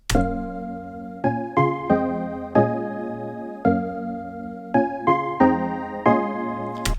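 Sampled chords from a song hit in a choppy rhythmic pattern, each stab decaying quickly before the next, moderately loud with no speech.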